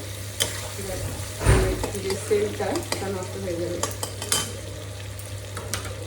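Potatoes fry in a pan and are stirred, a soft sizzle broken by repeated scraping and clinking strokes of the spoon, while someone talks over the cooking.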